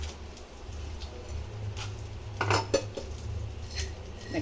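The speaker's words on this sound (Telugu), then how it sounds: "డ్రై ఫ్రూట్స్ అవన్నీ ఫ్రై చేద్దాం అన్నమాట." Dry fruits and melon seeds fry in ghee in a pan, with faint sizzling, metallic clinks and scrapes of a utensil against the pan, and a low hum underneath.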